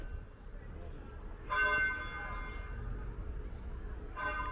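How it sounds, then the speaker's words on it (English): Church bells ring faintly in the distance in the evening, two clear strikes with lingering tones over a soft background hum. "you can hear the church bells. Listen to this."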